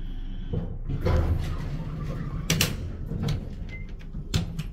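An Otis Series 1 hydraulic elevator at Hofstra University's Breslin Hall runs with a low steady hum, broken by door rumbles and several sharp metallic clunks, heard close with no talking.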